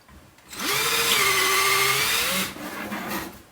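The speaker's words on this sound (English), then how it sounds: "get a 8mm or a 5/16 inch drill bit and a drill" A power drill with an 8mm bit cleans out holes on a Reprap Wilson TS printer part, giving one steady whine of about two seconds that starts and stops sharply, followed by quieter handling noise.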